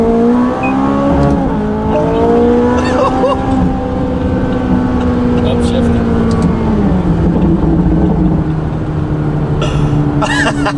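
A McLaren 570GT supercar drives and accelerates with a loud, continuous engine drone whose pitch climbs and falls between gear changes, heard from inside the car while people talk over it.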